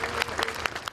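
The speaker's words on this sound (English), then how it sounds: "The entire town broke out into a respectful cheer, a final thank you." A small-town crowd gathered outside a funeral home for a fallen soldier breaks into steady clapping and cheering, a dense, continuous wash of applause.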